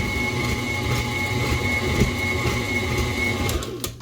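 A stand mixer beats apple cake batter for a Polish apple cake, its motor giving a loud, steady mechanical whir with a faint high whine throughout.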